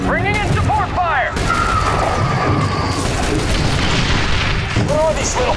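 Support-fire explosions and gunfire in The Bureau: XCOM Declassified, a dense continuous barrage of booms and shots filling the whole stretch, with shouted voices breaking through near the start and end.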